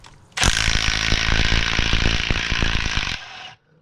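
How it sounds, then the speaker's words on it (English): An impact wrench rattles off bolts during a top swap on a Bonneville SSEi 3800 Series II engine, delivering one loud, close burst of rapid hammering for about three seconds before cutting off. "I'm probably gonna get the impact and get all these things off real quick"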